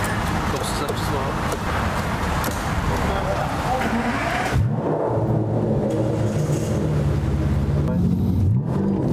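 An Aston Martin DBS engine running steadily with a deep, loud rumble that settles into a lower idle drone partway through, while someone talks excitedly over it.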